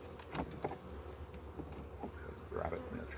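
Honey bees, including drones at the top of a full hive, hum in a steady, dense buzz close by while the hive is opened and tended outdoors, with faint movement noises and no talk.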